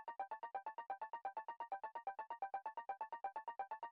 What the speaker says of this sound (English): And then I saw that you have this really nice ARP